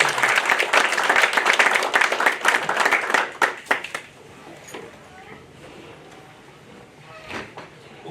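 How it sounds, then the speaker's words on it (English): An audience at a chamber of commerce small business incubator challenge claps for the first new business, with a burst of brisk, close applause that dies away after a few seconds into quieter room noise and a few stray claps. "How about one more round of applause for our first new business?"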